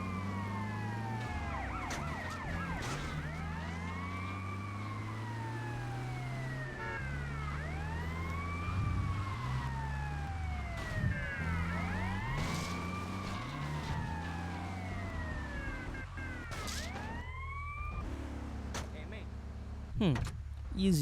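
Police sirens wail in the video game GTA Vice City during a car chase, their rising and falling tones overlapping over a low engine drone as someone talks throughout.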